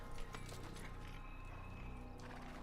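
Horse hooves clip-clopping in the video game Assassin's Creed, a steady run of close, even hoofbeats with faint mechanical game sounds, no talk.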